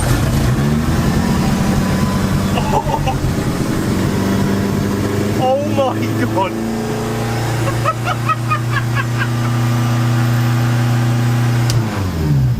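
A Ford Zetec turbo engine in a van cranks, catches and idles, then revs in a few rises and falls, loud and close, with a short exclamation from a person partway through.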